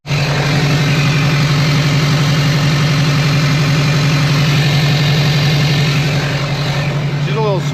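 LBZ Duramax diesel truck idling with a strong, steady low hum and constant clatter, loud and close throughout, with a brief squeak near the end.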